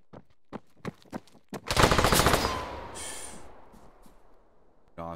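A rapid burst of video game gunfire cracks out over a few seconds during a Capture the Flag match, preceded by single shots and fading into a ringing tail.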